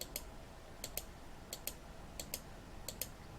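Keys on a computer keyboard are tapped lightly in quick pairs, five double clicks at a steady pace, faint and close over a quiet hiss, with no talking.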